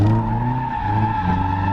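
A car drifts at full throttle, tires skidding and squealing loudly over a steady engine roar, the screech sustained and close for the whole stretch.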